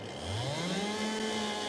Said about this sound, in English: let's get the chainsaw on